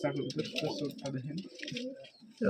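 Pigeon cooing from an uncommon domestic pigeon among a collection of Rajshahi high-flying pigeons, low throaty coos repeating steadily close by alongside other bird sounds, with people talking over it.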